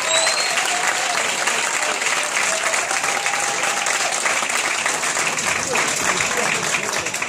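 Audience applause at an album launch concert, steady and full throughout, a dense wash of clapping from a crowd with no break.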